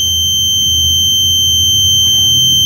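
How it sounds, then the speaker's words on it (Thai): An electrical leakage alarm device gives off a continuous, steady, high-pitched electronic tone at close range for the whole stretch, with no voices. "อุปกรณ์แจ้งเตือนไฟรั่วนะครับ"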